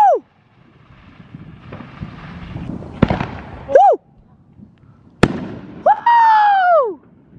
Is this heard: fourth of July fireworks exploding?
yes